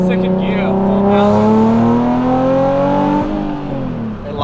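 Nissan 350Z NISMO 380RS engine pulling hard in second gear, a loud close-up interior drone climbing steadily in pitch for several seconds before easing off as the revs drop.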